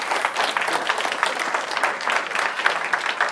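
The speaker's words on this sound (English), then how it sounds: "give a big round of applause" A library audience applauds steadily, a dense, even patter of many hands clapping at close range with no voices standing out.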